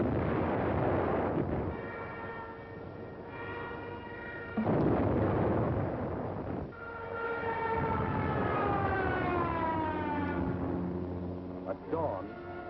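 Air-raid sirens wail with rising and falling tones over the rumble of German aerial bombing of Yugoslavia at dawn, heavy booming blasts breaking through at intervals in a loud, dense wartime soundscape.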